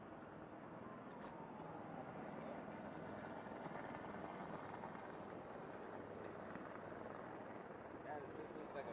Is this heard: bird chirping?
no